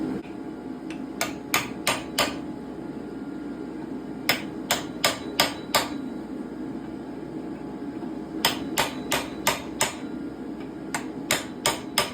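A hammer strikes forged metal while a mouth is cut into a dragon's head door knocker, coming in three groups of about five sharp ringing blows each, close and loud over a steady forge roar.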